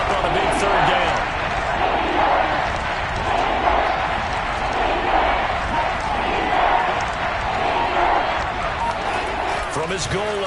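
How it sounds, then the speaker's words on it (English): Football stadium crowd roaring steadily before a big third down, a dense, loud wall of cheering and noise holding throughout with scattered shouts. "The crowd getting into it as we come up on a big 3rd down."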